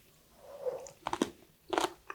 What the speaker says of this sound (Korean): 먼저 무생채만 먹어볼게요.